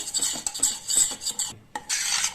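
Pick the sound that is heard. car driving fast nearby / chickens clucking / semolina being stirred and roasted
semolina being stirred and roasted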